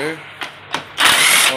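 A power drill or impact driver loosening 14 mm mounting bolts, short bursts of whirring followed by a longer loud run, close up.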